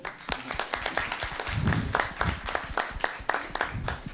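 A conference audience claps for two volunteers, a modest crowd with distinct individual claps audible in a loose, fairly close patter that swells slightly midway and then thins.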